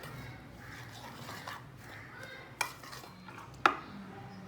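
Gram flour batter with salt, garam masala and black pepper being mixed in a bowl, soft steady stirring with two sharp spoon clinks against the bowl near the end, no talk.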